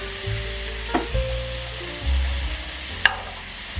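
Mushrooms frying in butter in a pan give off a steady, quiet sizzle under a low hum, broken by a couple of sharp utensil taps, close with no talking.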